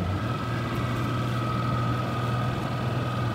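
A boat motor runs during a sturgeon catch-and-release, giving a steady, low, continuous engine drone with a faint higher whine, constant in level throughout and without voices.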